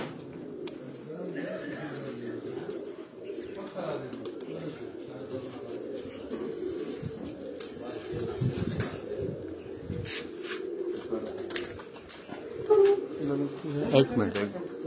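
Pigeons coo on a rooftop, soft low calls running under ongoing talk, with a few sharper noises near the end.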